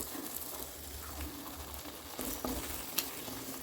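Thick halwa made with country jaggery and ghee being stirred and flipped in a pan, giving a soft steady sizzle with faint scraping and a few sharper clicks, close up and without talk.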